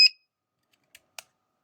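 A DIY battery protection buzzer, fitted with a cutoff-threshold potentiometer and switch, lets out a sharp high beep at the start, then two shorter, quieter chirps follow after a pause.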